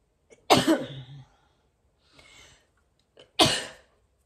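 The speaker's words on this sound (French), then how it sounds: "J'ai mal à la gorge, je tousse." Two sharp, harsh coughs ring out close up, separated by a quiet breathy pause, each burst fading quickly.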